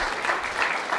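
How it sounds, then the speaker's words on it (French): Dense applause from an audience at a media workshop fills the whole moment as a steady, bright wash of many hands clapping together. "on peut l'applaudir je pense"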